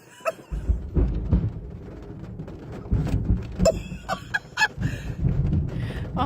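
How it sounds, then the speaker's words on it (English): Thunder from a storm cracks and rumbles, with a deep booming roll that rises after a quiet start. It is followed by several sharp, loud crackling bursts over a sustained low rumble. "Mother Nature snapped back with a big bang of thunder."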